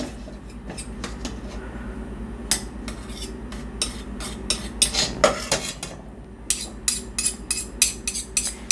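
Dye-free chocolate pudding is stirred in a pot with two spoons, metal spoons scraping and clinking against the pot in irregular bursts and clusters over a low steady kitchen hum, close and without talk.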